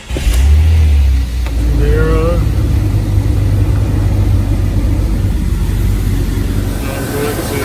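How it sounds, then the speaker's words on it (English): A 2000 Jeep Cherokee XJ engine, nearby and loud, starting with a heavy low rumble and then settling into a steady idle. Its A/C system is being serviced, and someone speaks briefly over the running engine. "Now we're going to start the car up."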